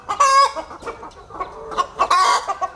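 A hen clucks and squawks in loud, agitated bursts while being handled for artificial insemination on a farm, close and alone with no talk.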